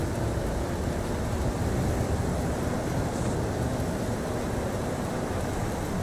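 Wind blows in the Forza Horizon 5 racing game, a loud, constant broadband rushing roar with no breaks, steady throughout.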